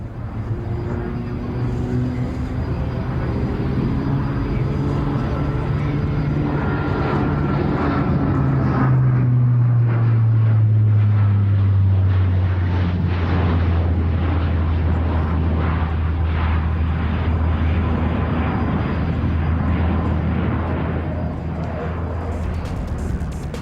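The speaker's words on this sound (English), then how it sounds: "at Farnborough was this Alenia C-27J Spartan" An Alenia C-27J Spartan tactical transport aircraft at the Farnborough Airshow gives a loud, steady turboprop roar whose pitch falls as it passes, with a continuous broadband rumble underneath.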